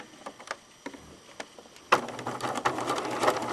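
A sewing machine stitches a velvet seam, first in a few short, faint, separate bursts and then in a steadier, louder run of rapid stitching up close.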